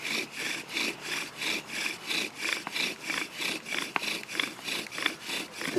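Wooden friction fire drill spinning back and forth in a wooden socket, a steady rhythmic rasping, roughly two strokes per second, close and continuous with no talk.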